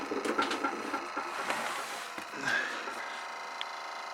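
Tape mechanism of a Pioneer RX 530 running with its drive belt off, a faint, close, continuous mechanical whirring and scraping rattle with no talk.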